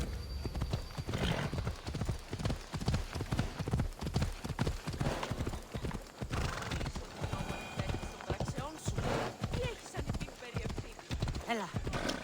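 Horse hooves clip-clop in a steady, close rhythm while riding in the video game Assassin's Creed Odyssey, with a brief whinny and a voice speaking over the hoofbeats.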